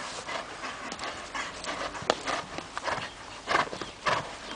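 A horse at a stud farm moves nearby with irregular hoof clops and rustling mixed with panting breaths, some hits louder than others, and no talk.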